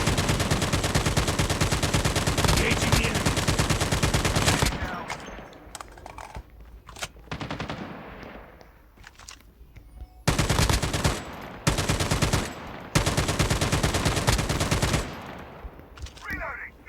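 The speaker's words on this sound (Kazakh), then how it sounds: "ана жақта атысып отыр." Dense automatic gunfire from a Call of Duty battle royale match rattles in long, loud continuous bursts, breaks into scattered shots and quieter stretches, then returns in several more sustained volleys, with a voice talking at times.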